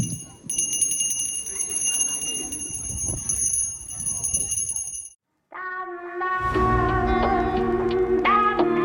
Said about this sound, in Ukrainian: Сьогодні дзвоник сумно сповіщає, що нас розлука із ліцеєм всіх чекає.